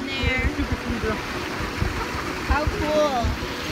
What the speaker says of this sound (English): It's like a little tiny swimming pool with a little baby waterfall.